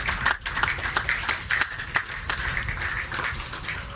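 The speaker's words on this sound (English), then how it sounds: "They deserve a lusty round of applause." A crowd at a school football match claps for a sponsor in a brief, steady burst of dense clapping heard throughout.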